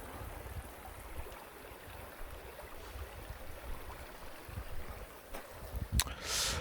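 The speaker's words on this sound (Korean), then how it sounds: "물소리도 너무 좋고," A mountain valley stream flowing near Daeheungsa temple in Haenam makes a steady, low rushing wash of water that fills the whole stretch, with a brief sharp click near the end.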